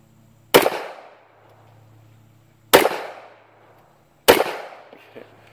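Hi-Capa 1911 airsoft pistol firing three sharp, loud single shots a couple of seconds apart, each with a short decay into quiet.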